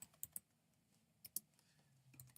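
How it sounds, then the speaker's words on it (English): A computer keyboard is typed on quietly, with a handful of sharp, scattered keystrokes in short bursts and no talking. "we're going to type in right here"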